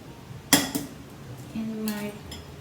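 Three eggs stirred in a bowl for zucchini carrot muffins: two sharp, close utensil clinks against the bowl, then a few seconds of quieter scraping with a faint ringing tone.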